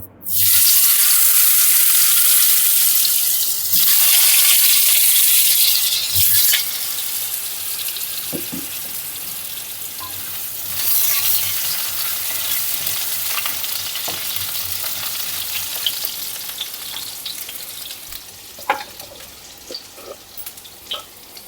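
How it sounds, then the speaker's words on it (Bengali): Potatoes and cauliflower frying in a hot pan with a loud crackling sizzle that settles into steady spitting, punctuated by occasional stirring clinks. "এবার আমি এক এক করে আলু আর ফুলকপিগুলো ভেজে নেব"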